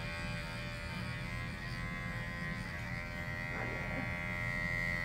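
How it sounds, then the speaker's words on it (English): Electric clippers buzz steadily and close up while grooming a dog, a continuous even hum with a bright tonal whine that holds for the whole stretch with no talking over it. "I'm using my thumb to stretch the skin to get a nice clean clipper."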